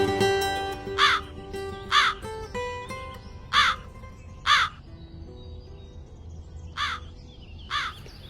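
A crow caws repeatedly nearby, about seven harsh calls spaced roughly a second apart with a gap in the middle, heard over a sustained tonal background.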